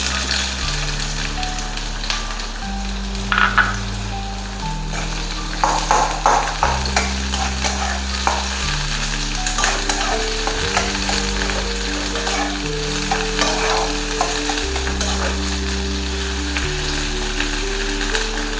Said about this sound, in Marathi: तेल गरम झाले, कांदा टाकून घेते।